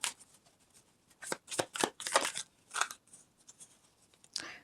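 Tarot cards being shuffled in several quick riffling bursts, crisp and close, with short pauses between them and no talking.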